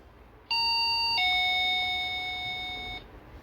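A wireless doorbell chime sounds once, a clear two-tone electronic ding-dong ringing for a few seconds in a quiet room.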